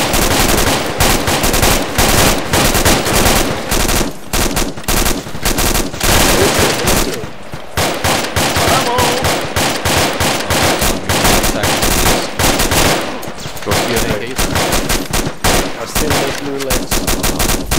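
Sustained gunfire in a military video game set in Sangin, rapid automatic bursts and shots filling the scene almost continuously and loudly, with a brief lull midway and a short spoken word in the mix.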